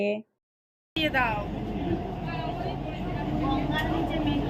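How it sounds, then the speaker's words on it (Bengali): A brief silence, then a Kolkata underwater metro train roars at full speed through the tunnel under the Ganges, with a steady loud rumble and rushing noise; faint whistle-like tones ride above it. "ছেড়ে দিয়েছে মেট্রো আমাদের খুব ফুল স্পিডে চলছে"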